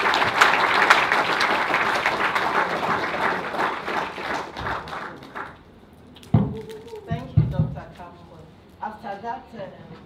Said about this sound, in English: if you can all give her a round of applause